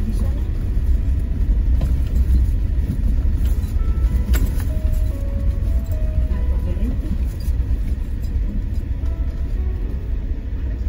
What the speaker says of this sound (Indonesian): ada mobil di sana